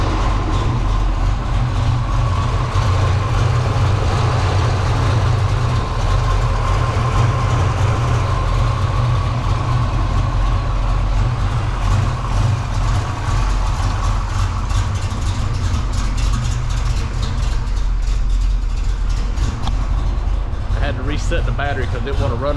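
A Foxbody Mustang V8 fitted with a Vortech supercharger and running on 93 gas idles loudly and steadily up close, a continuous heavy rumble that stays even throughout.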